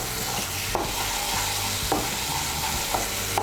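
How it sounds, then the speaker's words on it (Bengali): Salt and turmeric powder being stirred into a hot pan of sizzling ground pointed-gourd paste, a steady frying hiss with several scraping spoon strokes, close and alone. "নুন আর হলুদের গুঁড়োটা ভালো করে মিশিয়ে নেব"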